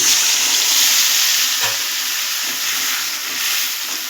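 A paste of green chilli, garlic, ginger, a little onion and tomato fries in a hot pan with a loud, steady sizzle and hiss throughout, broken by a few soft stirring scrapes.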